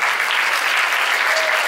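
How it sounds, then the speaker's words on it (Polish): Steady crowd applause at a ceremony handing out prizes, medals and trophies, a dense even wash of clapping throughout with no voices. "Brawa."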